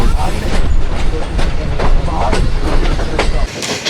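Awam Express passenger train rolling on rails into Karachi after heavy rain in Sindh, a loud, close, continuous rumble inside the carriage with rhythmic clickety-clack of wheels over rail joints.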